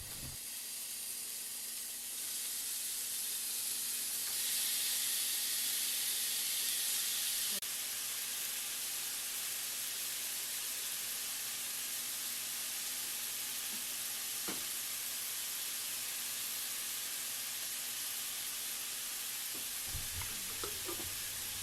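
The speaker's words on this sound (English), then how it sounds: "we're going to go ahead and ground our beef in the skillet." Ground beef sizzles and fries steadily in a hot skillet for pasta, a constant close hiss with brief louder bursts early on and occasional stirring clicks and scrapes near the end.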